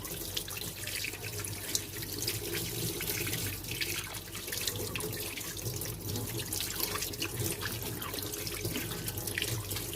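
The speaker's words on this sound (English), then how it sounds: "you have to wash your hands with soap and running water." Running tap water splashes steadily into a sink, with soapy hands rubbing and moving under the flow, continuous and close.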